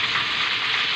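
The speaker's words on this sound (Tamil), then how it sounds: "இந்த மாதிரி நல்லா ப்ரௌனிஷ் கலர் வர வரைக்கும் நம்ம வந்து ஃப்ரை பண்ணி எடுத்துக்கலாம்" Raw jackfruit chips frying in hot oil, giving a steady, dense sizzle that holds at an even loudness for a short moment with no voices.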